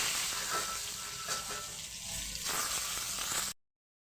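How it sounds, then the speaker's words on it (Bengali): Eggplant pieces frying in mustard oil in a pan, a soft continuous sizzle heard close for a few seconds before it cuts off abruptly. "বেগুনগুলোকেও ভালোভাবে ভেজে নিয়েছি"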